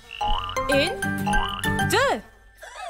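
Frog croaks in a French children's nursery song, a run of bright, rising and falling croaking calls set against musical backing, repeating several times close and loud before fading.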